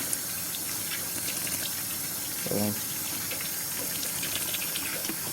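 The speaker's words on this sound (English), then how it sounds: "we'll turn on some cold water in my case" Cold tap water runs steadily into a Danby twin tub washing machine, a continuous close hiss and splash with a brief clunk partway through, while a person talks over it.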